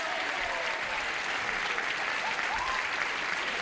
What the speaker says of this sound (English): Would you all give a brisk round of applause to a current champ here, Rick Bursky.